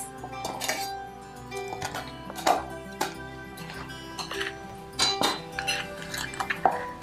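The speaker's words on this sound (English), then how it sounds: "So I'm gonna mix this into freshly cooked rice." A utensil stirs sakura seasoning into freshly cooked rice in a bowl, producing soft scraping and several bright clinks against the bowl at irregular intervals, close and fairly quiet.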